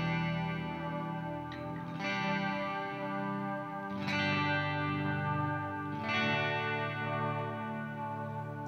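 A Boss DM-101 analog delay pedal imitates a multi-head tape drum echo on guitar, with chords struck about every two seconds and dense, chorused repeats that smear and sustain between hits, steady and fairly loud with no voices.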